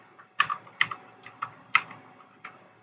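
Someone types on a new computer keyboard nearby, producing a handful of crisp, irregular key clicks at a moderate level with no talking.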